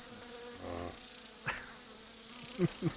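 Insects buzzing by the Pechora river at a rural rest spot, counted as mosquitoes, with short close whining passes that rise and fade, a few quick buzzes near the end, over faint background noise.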